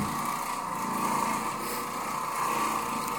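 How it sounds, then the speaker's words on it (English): An Oreck Orbiter orbital floor machine scrubbing carpet in a house in Brownwood, Texas, a loud steady motor whine with a constant droning hum that holds without pause throughout. "this machine, it doesn't just spin around, it's an orbital machine, so it's a random orbit"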